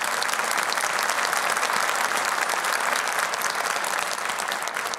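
Sustained, dense applause from an audience honouring Quran recitation contestants at a competition, steady and even throughout with no speech over it.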